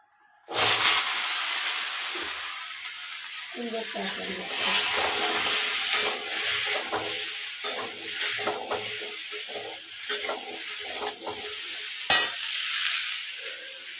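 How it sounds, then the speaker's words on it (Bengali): Curry hits a hot pan with a sudden loud sizzle that settles into a steady hiss of frying, with stirring scrapes and soft knocks running underneath. "আমি এখন তরকারিটা চাপিয়ে দিই"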